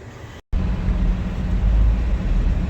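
A 2001 Toyota Highlander with a knock sensor fault being driven, giving a steady, loud low rumble of engine and road noise that cuts out for an instant near the start.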